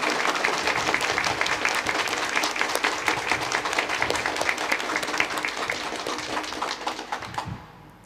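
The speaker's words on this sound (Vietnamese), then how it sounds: "Mời cộng đoàn vỗ một tràng pháo tay thật to và thật dài chào đón Hội đồng Giám mục Việt Nam và tất cả các vị khách quý." A church congregation applauding to welcome visiting bishops at a Mass, loud sustained clapping from a large crowd that fades away near the end.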